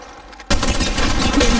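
Sudden burst of rapid gunfire in the game Apex Legends, a dense crackling volley that starts abruptly after near silence and stays loud and continuous to the end.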